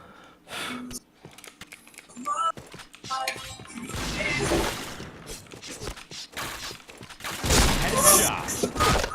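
Gunfire and reloading in a shooter video game: bursts of shots, clicks and mechanical clatter come in uneven clusters, loudest near the end, while excited voices talk over the action.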